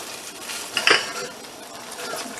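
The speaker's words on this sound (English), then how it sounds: "we are going to put the almonds and the vanilla in now" Almonds and vanilla dropped into hot toffee in a pot in a pastry class kitchen, a brief clatter and sizzle in the middle against a low steady background hiss.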